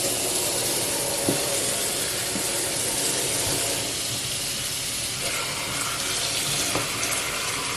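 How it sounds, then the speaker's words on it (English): Water runs steadily from a tap into a plant container, a dense continuous hiss and splash that stays loud and even, with a few faint knocks and no talking. "I fill it up with water and I just put the plant inside of it"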